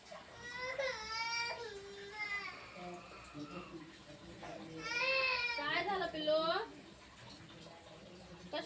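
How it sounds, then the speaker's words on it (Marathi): A young child cries in a home kitchen while kadhi is being cooked, with two loud, wailing bursts separated by softer whimpering and vocal sounds, close to the listener. "कशाला रडतोय तुला हो"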